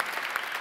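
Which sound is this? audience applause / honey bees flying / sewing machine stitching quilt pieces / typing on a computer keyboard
audience applause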